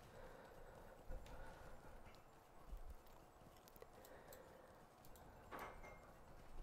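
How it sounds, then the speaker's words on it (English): Horse hooves clip-clop in the online game Lord of the Rings Online, a steady run of soft, evenly spaced steps beneath a continuous game ambience, with no talk. "The little horses again."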